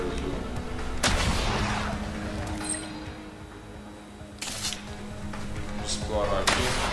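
An explosive bomb blast breaks a shield in the video game Strider, with a sharp burst near the start and further crashes later, loud and close over game background sound.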